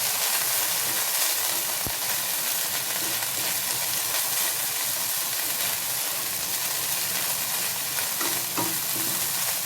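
Millet vermicelli (varagu semiya) roasting in a hot pan, a continuous dry sizzle and hiss with steady stirring scrapes, loud and close, no voices over it.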